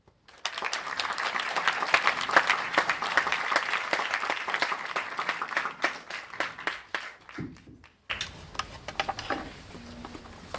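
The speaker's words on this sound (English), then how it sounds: "Can we clap again for Adam, please?" TEDx audience at MMU claps for a speaker after his talk, a roomful of hands in dense applause that thins into scattered claps, stops briefly, then resumes more loosely toward the end.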